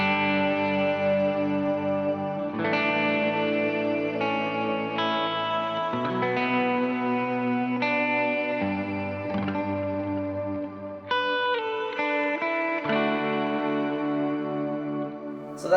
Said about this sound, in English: Here's a shimmer reverb.